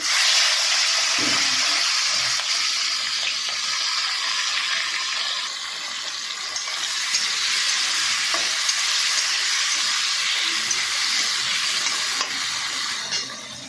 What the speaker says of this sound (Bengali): এবার তেল কড়াইতে দিয়ে দিয়েছি, এবার মাছগুলো ভেজে নেব।